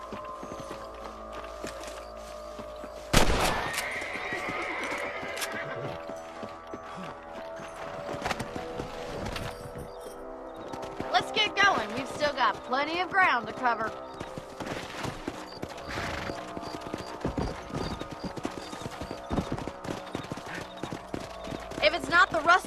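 Horses in the Western video game Red Dead Redemption clop along with rhythmic hooves, a loud whinny, and tack and gear rattling, while someone talks briefly over the riding sounds and a musical score.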